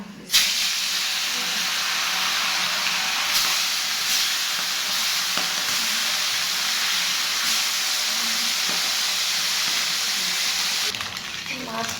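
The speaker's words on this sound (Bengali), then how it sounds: "যদিও নদীর মাছ তাও মাছগুলোকে সামান্য ভেজে নেবে" River fish fry in a pan with a steady, even sizzle and hiss. The sound runs unbroken for about eleven seconds and stays close and moderately loud.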